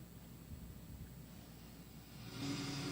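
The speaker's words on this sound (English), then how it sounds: "Cars going by" A steady wash of traffic noise from cars passing on a rainy day, with tyres hissing on the wet road and a vehicle growing louder near the end.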